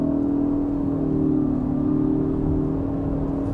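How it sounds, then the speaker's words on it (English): A 2020 Ford Kuga plug-in hybrid accelerates from 40 to 100 with its electric motor and combustion engine working together, giving a steady, rising engine hum and whir heard from inside the cabin, continuous and moderately loud. "And now we accelerate from 40 to 100."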